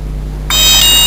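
A heat press timer sounds its alarm at the end of a fabric sublimation pressing cycle. A loud, steady high-pitched beep starts abruptly about halfway through over a constant machine hum.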